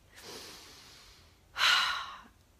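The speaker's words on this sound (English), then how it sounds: "take a breath in and don't panic" A person breathes in deeply, giving a soft, airy inhale, followed by a louder, breathier rush of air, close and alone without talk.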